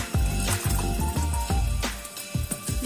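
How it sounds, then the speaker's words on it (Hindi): Water is poured and splashed into a plastic bucket holding old bottles during a recycling craft, giving a continuous close gurgling fill with repeated sloshing surges. "इसमें हम थोड़ा सा पानी भरेंगे ताकि ये बकेट के अंदर ही रहे।"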